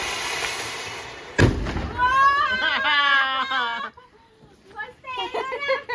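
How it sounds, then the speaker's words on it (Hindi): A single sharp firecracker bang cracks out close by during Diwali, followed by excited, high-pitched voices talking and shouting. "कितनी मजा आ जाए पटाखे फोड़ने में।"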